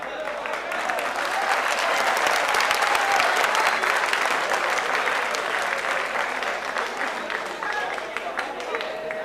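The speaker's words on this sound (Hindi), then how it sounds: "अगर ये तालियां मेरे लिए बजी हैं तो बहुत बहुत शुक्रिया" Sustained audience applause at a comic poetry mushaira in Delhi, loud dense clapping that swells and holds for several seconds, with faint voices mixed in.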